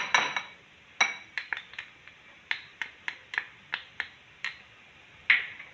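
Egg yolk, garlic-ginger paste and corn flour are mixed in a bowl, a spoon striking the sides in a quick, regular run of about a dozen sharp, close clinks.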